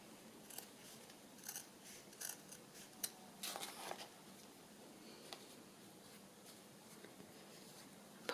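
Scissors trimming decorated paper for a bird journal, giving a run of quiet, close snips and small paper rustles over about eight seconds, with no talk.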